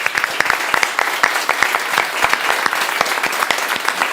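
A crowd at a live Dota esports show in Singapore claps steadily, with dense, sustained applause for a player filling the room for several seconds.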